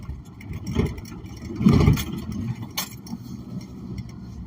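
A truck engine revving under added gas, a close mid-pitched rumble swelling in a couple of surges over steady running noise.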